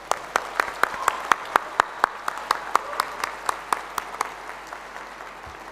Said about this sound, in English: please join with me for a big applause for parents of all the young graduates here today